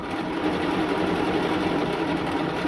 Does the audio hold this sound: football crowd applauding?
no